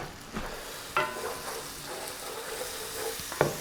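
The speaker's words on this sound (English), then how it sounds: "Tomatillos are simmering away." Tomatillos simmering in a pot on the stove, a continuous soft sizzle and bubbling hiss with a few sharper pops and spoon clinks, close by and unaccompanied.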